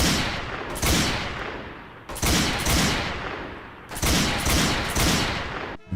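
Bursts of heavy gunfire from a laser-sighted primary weapon in Left 4 Dead 2, three long booming volleys separated by short pauses, loud and close with no talk.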